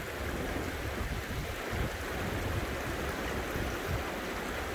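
Stream water washing steadily through a gold pan held just under the surface while panning in Scotland, a close, continuous broadband rush and gurgle with no voices.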